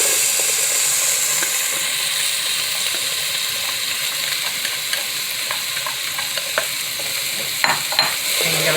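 Onions and garlic sautéing in a pan for a vegan tomato basil soup, a steady bright sizzle with soft stirring scrapes and small pops, close and continuous, no voices.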